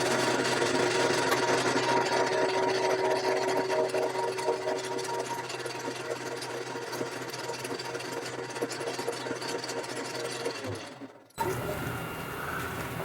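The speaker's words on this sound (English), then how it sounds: "So what we'll do is turn the bore" A metal lathe turns a bore, giving a steady close machine hum with a rough cutting texture that continues for about eleven seconds, then cuts off and is followed by a quieter hiss.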